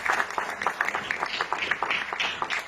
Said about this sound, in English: Let's give Minister another round of applause.